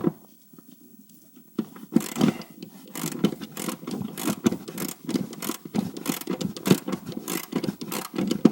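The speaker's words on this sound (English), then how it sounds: "this is one of those times where if you have an electric ratchet," An electric ratchet works a stubborn ground bolt on a car during a turbo kit installation, starting after a quiet moment into a rapid, uneven run of close mechanical clicks and buzzing whirs.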